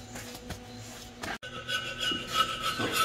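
Abrasive cleaning pad scrubbing a BMW M10 cylinder head: close, rhythmic rasping rubs that stop briefly and then resume with brisker, slightly louder strokes.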